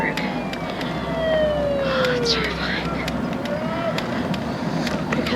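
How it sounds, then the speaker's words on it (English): An ambulance siren wails steadily with rising and falling tones, moderately distant, over constant road and crowd noise from a large group of cyclists. "There's the ambulance."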